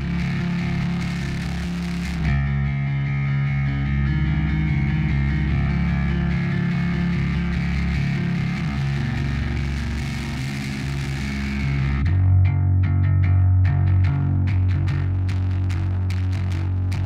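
A thick, growling distorted bass tone, saturated and buzzy, sustained and loud, with the character shifting partway through.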